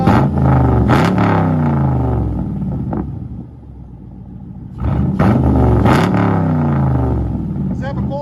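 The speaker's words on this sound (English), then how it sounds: "Chevy Camaro True Dual, straight pipe." Chevy Camaro SS with a 6.2L V8 and true dual straight-pipe exhaust revs loudly and close by in two bursts of rising, rumbling throttle, with a quieter idle lull between them.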